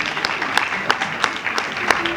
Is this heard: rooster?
no